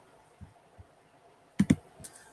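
Sharp clicks in a room, a couple of soft taps followed by a quick close double click and one fainter click, with no talking.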